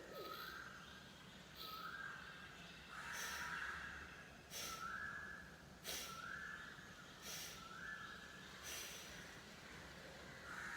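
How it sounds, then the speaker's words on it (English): Breathing exercise with about eight forceful, rhythmic exhales through one nostril, each a short breathy snort spaced roughly a second apart, close and fairly loud over a low background hum. "so I give an exhale out little by little so that I don't need to inhale in between"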